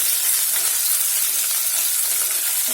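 Green chilies dropped into garlic frying in hot oil for a mixed vegetable dish, giving a loud, close, steady sizzle that hisses continuously with no pauses.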